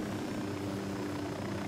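A helicopter in the video game Ghost Recon Wildlands gives a steady, continuous rotor and engine drone, sustained throughout at moderate level with no talk over it.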